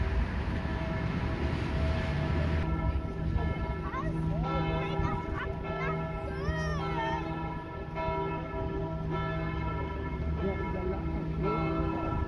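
A church bell ringing near the train station in Bern, Switzerland, sounding as steady sustained tones in the distance under street noise while someone speaks in Arabic.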